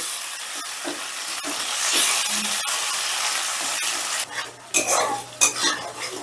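Spice paste frying in a pan over a medium gas flame, a steady bright sizzle with scraping stirs and clinks of a utensil, louder bursts of stirring toward the end.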